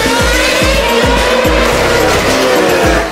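A race car with a 980-horsepower engine screams loudly and continuously, its engine note repeatedly rising and dropping as it shifts through gears at high speed, close and dominant.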